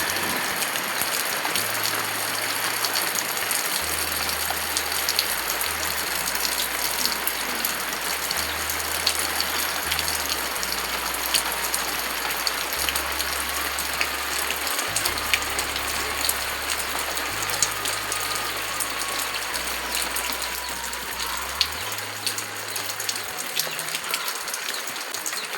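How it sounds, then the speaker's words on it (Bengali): Steady rain falling outdoors, a constant dense hiss of drops hitting surfaces, continuous and even throughout, with a low stepped background tone underneath and no speech. "এই যে বৃষ্টি নেমে গিয়েছে দেখো"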